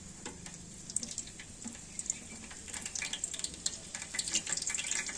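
Bay leaf dropped into hot ghee already holding cinnamon, cloves and cardamom, giving a steady close-up sizzle and crackle with scattered sharp pops that grow busier toward the end, with no voices.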